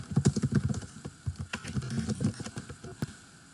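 Rapid, close clatter of keys on a computer keyboard as a message is typed into a Zoom chat, a quick irregular run of taps with short pauses.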